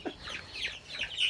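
Chickens cluck softly in a short run of faint, quick calls near a hutch, with no talking over them.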